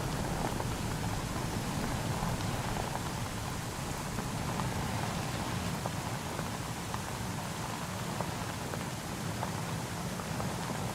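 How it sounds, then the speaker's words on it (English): Steady, dense rainfall in a roleplay video game, a continuous hiss of drops spattering on surfaces that holds at an even level from start to finish with no voices over it. "So much rain"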